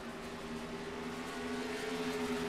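Stock cars race at Bristol in a racing video game, giving a faint steady whine of engines with sustained tones that rise slightly as the pack runs together.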